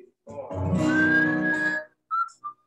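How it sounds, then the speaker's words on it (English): Someone whistles a melody from an '80s rock song, a sustained tune lasting under two seconds, followed by short bursts of other sound. "Oh, you're whistling."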